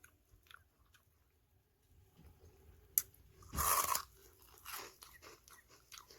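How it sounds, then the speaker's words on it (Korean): Crispy pasak snack dipped and bitten, a sharp crack followed by a loud burst of close crunching and softer chewing, heard alone in a quiet room. "먹어볼게요"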